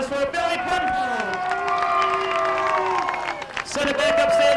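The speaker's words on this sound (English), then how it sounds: "a big Beech Ridge round of applause for Billy Penfold" Racetrack crowd at Beech Ridge Motor Speedway applauding and cheering for race winner Billy Penfold at a 1993 weekly stock car event, steady broad clapping and whoops with a loud announcer-style voice over it.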